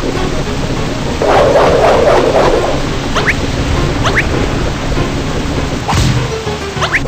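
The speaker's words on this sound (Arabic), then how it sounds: "انتبه العاصفة تزداد قوة" Stormy weather in a ship-sailing video game, with a steady roar of heavy rain filling the whole stretch, a loud rumbling thunder swell early on and sharp crackling bursts scattered through, no voices.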